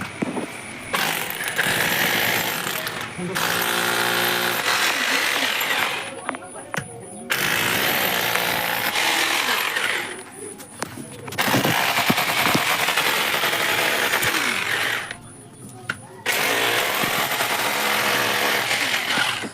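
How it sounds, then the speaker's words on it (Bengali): An electric drill runs loud and close in long sustained bursts, drilling marked holes for wall plugs to mount a Quran stand, with short pauses between each hole. "এখন কিন্তু ড্রিল দিয়ে ফুটা করব"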